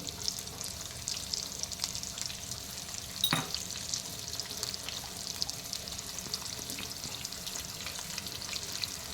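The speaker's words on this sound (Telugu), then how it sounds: "ఆయిల్ వేడక ఆనియన్స్ వేయాలి అలాగే తగినంత సాల్ట్ వేయాలి" Sliced onions and salt sizzle steadily in hot oil in a pan for ridge gourd curry, a loud continuous frying crackle with occasional stirring and one sharp clink partway through.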